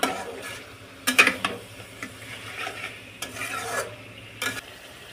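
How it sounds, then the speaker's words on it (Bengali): Duck meat being stirred with spice paste in a pan, with repeated scraping strokes and clanks of a spatula over a low sizzle, close and clear, with no voices. "মশলাটা মাংসের গায়ের সঙ্গে লেগে যায় এমনভাবে নাড়তে থাকুন"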